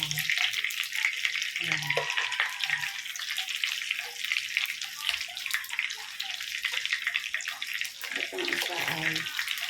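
Chicken fillet frying in a pan gives a steady, close crackling sizzle that runs throughout, with a person talking over it.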